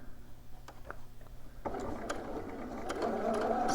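A sewing machine starts up and runs steadily, stitching fabric for McCall's 7908 shorts or pants with a close, whirring mechanical hum that follows a few soft handling clicks.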